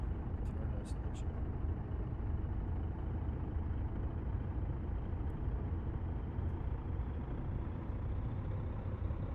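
A truck engine drones at a low, steady rumble while driving in American Truck Simulator, continuous and unchanging, with a few faint clicks near the start.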